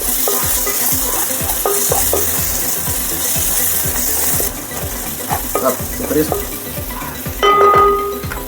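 Turmeric and fresh ginger-garlic paste sizzle in hot oil in a pan while a spoon stirs, a steady loud frying hiss with repeated scrapes and clinks of utensil on metal, close up and without speech.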